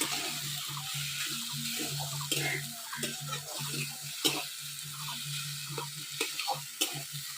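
Prawns frying in a pan alongside soft-cooked potatoes, a moderate sizzle broken by repeated stirring scrapes and clacks throughout, no talk.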